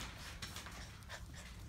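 Seven-week-old puppies pant softly in quick, rapid breaths close by, faint and continuous with a few small snorts, under low background noise.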